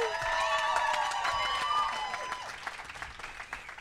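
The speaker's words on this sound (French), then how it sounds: "On l'applaudit." An audience welcomes a guest at a live French-language podcast recording with a round of applause, clapping fading and thinning into scattered claps while bright tonal sounds ring over the start.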